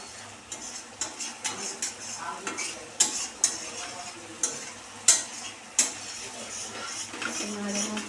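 Masala for shahi paneer is stirred in a pan, a spatula clacking against the metal in steady repeated strokes over a low sizzle, close and distinct.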